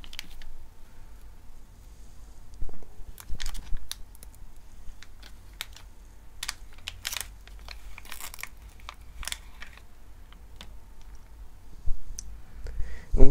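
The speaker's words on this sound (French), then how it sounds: "Nous allons donc déballer tout cela." Plastic bags holding screws, accessories and extruder arm and base parts for an Ender 3 3D printer are opened and handled, giving close, sparse crinkling and clicking over a quiet background.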